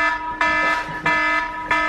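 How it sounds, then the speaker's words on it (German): An alarm clock sounding in a repeating tonal beep pattern, three loud bursts roughly two-thirds of a second apart, close and clear with no talking. "Das ist ein richtiger Wecker, ich muss jetzt zur Arbeit."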